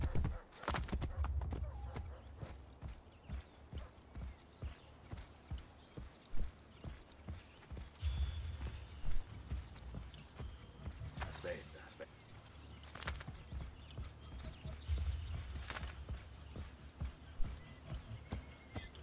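Horse hooves clip-clop in a steady rhythm in the Assassin's Creed Brotherhood video game, with a whinny and occasional mechanical clatter; someone talks over the hoofbeats at times.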